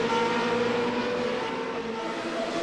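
A 3.5 litre V8 race car engine producing 530 horsepower drones at high, steady revs in a racing video game, loud and continuous with layered harmonic tones and no talk.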